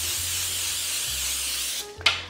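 Cooking oil spray hisses steadily onto fries for an air fryer, a close continuous spray with a low hum beneath, ending with a few handling clicks.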